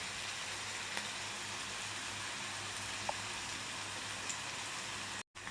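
Chopped onion frying with a little salt in a pan for a whole masoor curry, a steady soft sizzle throughout with a few faint clicks.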